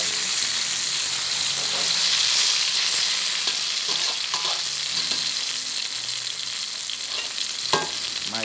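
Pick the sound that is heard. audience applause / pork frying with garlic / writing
pork frying with garlic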